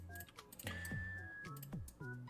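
Keys tapped on a computer keyboard as a variable name is typed in Roblox Studio, a quiet run of irregular clicks close by.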